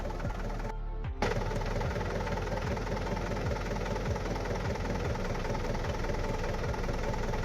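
A tractor engine idles steadily out in a field, a low continuous rumble with a knocking pulse, loud and close, broken by one brief dropout near the start.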